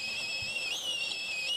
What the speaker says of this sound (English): That little green gadget is whistling its little heart out.